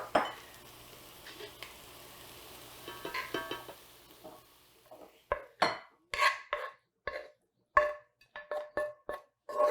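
A warm Three Sisters salad is scooped from a pan into a bowl, with soft scraping first and then a run of sharp, close clinks and scrapes of utensil against metal and bowl.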